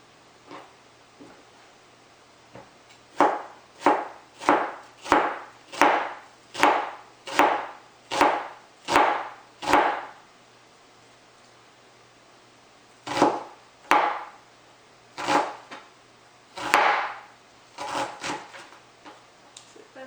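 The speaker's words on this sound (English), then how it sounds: "cut the onion super thin." A knife slicing onion super thin on a cutting board for kimchi, producing a quick, even run of close crisp chops, then after a pause a few more scattered cuts, with no talking.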